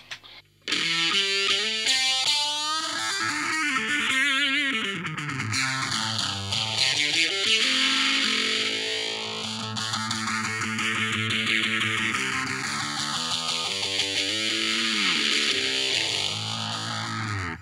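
Heavily distorted electric guitar with a fuzz tone, swept by a slow filter that rises and falls in repeated arcs, played loud with no talking.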